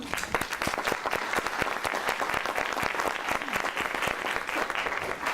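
An audience at a Chilean education event claps in sustained applause, a dense, even patter of many hands filling the room at steady volume with no voice over it.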